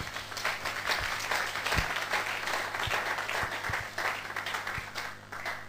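A church congregation applauds steadily, a dense wash of many hands clapping at close range with a few sharper claps standing out, continuing evenly throughout.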